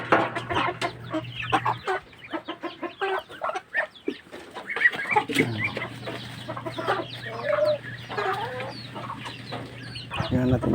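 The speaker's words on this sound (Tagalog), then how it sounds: "Dalawa lang ang tandang" Two roosters and hens cluck and call repeatedly in a flock, with busy overlapping bursts over a steady low hum and no talk.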